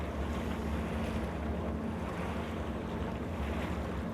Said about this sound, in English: Quite relaxing hearing the water though.